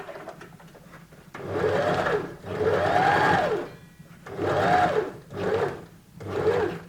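A sewing machine stitches a V-shaped neck band onto nurses' scrubs in four close bursts of rapid mechanical whirring, with a brief lull between runs and a quieter rustle of fabric before the first.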